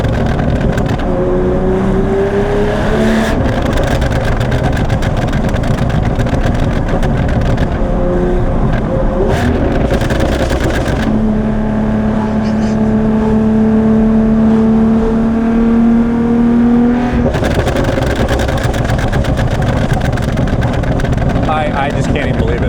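A Porsche 911 GT3 Touring with a six-speed manual revs hard on the road from inside the cabin, its loud engine climbing through the gears with pauses at the shifts, while someone talks over it.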